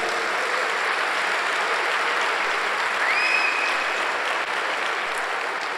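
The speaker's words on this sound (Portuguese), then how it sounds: "Dá um aplauso a Jesus." Sunday church service congregation applauding for Jesus, a steady, even roar of many hands clapping at constant loudness, with a brief high whistle-like tone partway through.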